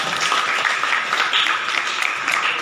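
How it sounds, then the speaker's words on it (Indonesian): A classroom full of students claps for a classmate, a dense, steady patter of many hands filling the whole stretch at even loudness with no pauses. "Beri tepuk tangan untuk Tasya."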